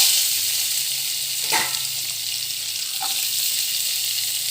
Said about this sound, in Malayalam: ഇനി ബീൻസ് ഇട്ട് കൊടുക്കാം